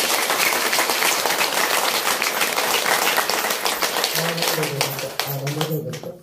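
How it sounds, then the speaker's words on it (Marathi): Sustained dense clapping from a crowd at a devotional discourse gathering in Akola fills the space steadily, fading slightly toward the end as a voice begins to speak over it. "सर्वांनी टाळ्या वाजवून स्वागत केलं."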